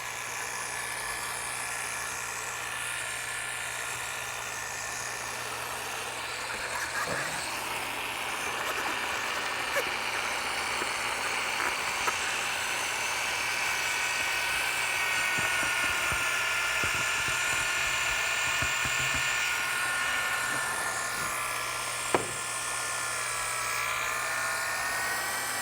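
A drill mixer whirs steadily through self-leveling epoxy coating, a continuous loud motor drone with a slight rise in pitch partway and a brief knock near the end, no talking.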